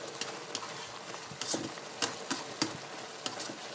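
Mushrooms stir-fried in oyster sauce in a pan, a steady soft sizzle with scraping and clinking of a utensil stirring at irregular intervals.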